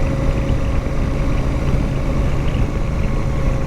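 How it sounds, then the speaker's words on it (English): Royal Enfield Super Meteor motorcycle engine running steadily while riding, a loud, continuous low rumble with a steady hum, close and unbroken, with no talk over it. "the sound of that engine's quite intoxicating"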